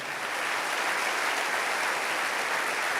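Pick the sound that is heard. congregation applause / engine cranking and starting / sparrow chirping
congregation applause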